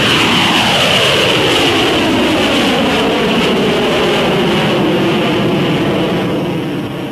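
McDonnell Douglas F/A-18 Blue Angels jet taxiing, then climbing steeply on takeoff: a loud, steady roar of jet thrust fills the whole clip, with a sweeping rise in pitch and a slight fade near the end.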